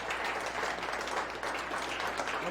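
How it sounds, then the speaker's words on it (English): An audience at a tour event clapping after a talk, a steady, even patter of many hands, moderately distant and sustained without pause. "They're all clapping because they have no questions."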